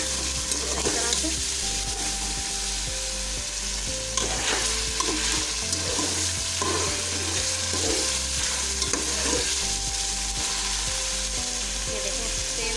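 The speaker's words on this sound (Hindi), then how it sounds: "हमारा गोश्त भूनने वाला है, बस तेल ऊपर आ जाए सही तरह से" Mutton browns in oil for palak gosht, a loud continuous sizzle and crackle with repeated stirring and scraping of the pot throughout.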